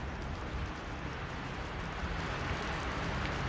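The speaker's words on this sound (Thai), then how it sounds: "นี่ฝนธรรมชาติ" Natural afternoon rain pours steadily near the Phra Nang Klao bridge, a dense continuous hiss of drops on surfaces with no break, moderately loud and close.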